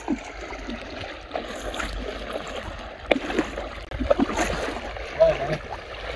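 Strong jungle stream current rushing and splashing around someone wading through it, with people talking over the steady flowing water.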